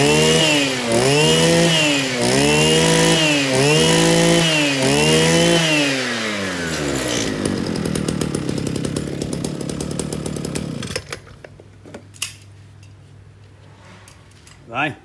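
A repaired Echo 315 chainsaw engine revs in rhythmic rising-and-falling cycles, loud and close. It settles into a steady high idle, then cuts off to near silence with faint clicks and handling noises.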